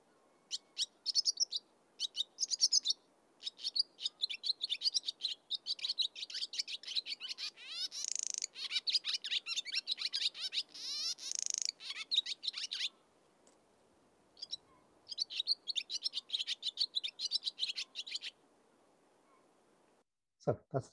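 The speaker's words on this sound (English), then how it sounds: "So that's the sound of the swallow." A swallow calls in a dawn chorus, rapid bursts of high twittering mixed with dry clicking notes, repeating in clusters with brief pauses and a near-silent stretch around thirteen seconds.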